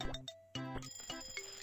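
Game phone ringing in Papa's Cupcakeria 2, a bright repeating ring in short bursts over cheerful in-game music, fairly clear and close.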